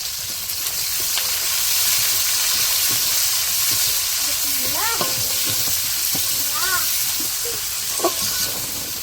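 Onion and green chilies sizzle steadily in hot oil with crushed garlic and whole spices in a village kitchen, a continuous bright frying hiss with occasional stirring clinks and a brief voice in the background.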